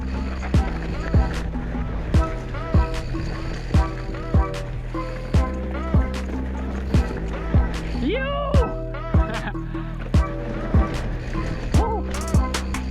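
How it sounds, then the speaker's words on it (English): Mountain bikes rolling along a trail near Kalbar, with steady tyre and wind rumble, frequent knocks and clatters from bumps, and brief squeaks, recorded close throughout. "Kept a bit of sound on here for you so you can get a listen to the bikes"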